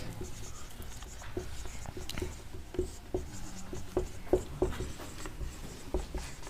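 Writing on a board during a maths lesson, with a steady run of scratchy strokes and light taps, close and fairly quiet, under faint room noise.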